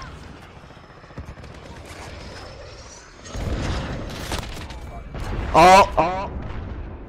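Gunfire and explosions in a PC shooter game, with scattered shots giving way to heavier bursts and a loud blast, while a player talks over the action.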